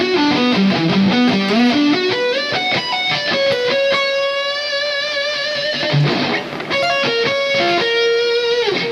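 Distorted electric guitar plays a solo section from a song, with fast sustained lead notes, slides and bends over a dense, loud, saturated tone that runs continuously with no voices.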